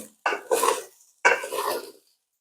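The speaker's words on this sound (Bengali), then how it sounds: "আর ভালো করে নাড়িয়ে দিতে হবে" A spoon stirs pulao inside a pressure cooker, making two close scraping, clattering passes against the metal pot with short silences between them.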